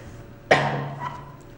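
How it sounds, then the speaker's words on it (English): A single sharp cough from a sick man, close and fairly loud, fading quickly into a brief rasp. "now I have a"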